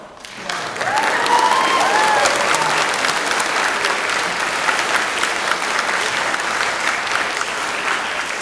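A crowd of wedding guests claps loudly and steadily for several seconds after the vows and kiss, dense applause that starts abruptly and holds without letting up.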